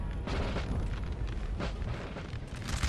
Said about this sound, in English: Just let my gunners just open up on the cavalry.